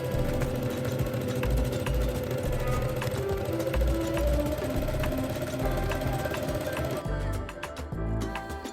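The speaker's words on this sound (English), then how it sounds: "Top stitch the pressed hem and press again." Sewing machine top stitching a pressed fabric hem, a steady fast mechanical whir and needle chatter running nearly continuously before briefly slowing and stopping near the end.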